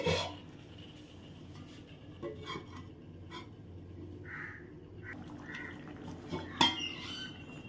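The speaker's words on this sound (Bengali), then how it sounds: "এবার আমি 4-5 মিনিটের মতো কড়াইটা ঢেকে দেব।" A lid is set onto a kadai (wok) of simmering lote fish (Bombay duck) curry, giving one brief metallic clink near the end against a quiet kitchen background.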